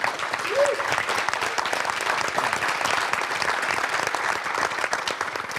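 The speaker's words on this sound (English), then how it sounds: "So can we all please give a big round of applause for Emmanuel?" Steady, sustained applause from a large audience at a forum speaker talk, dense clapping filling the whole stretch at an even, loud level, with a brief voice rising over it near the start.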